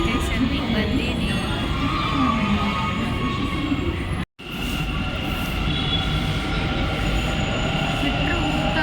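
Metro train at a metro station, with a steady loud rumble, wheel squeal and ringing tones under faint background voices, broken by a momentary silence midway before the rolling noise resumes.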